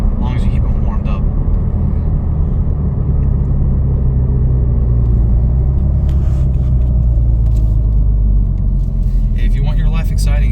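A modified 991 Porsche Turbo of 650+ horsepower on Toyo R888 tyres cruises along a road with a deep, constant engine rumble and road roar inside the cabin, while someone talks over it throughout.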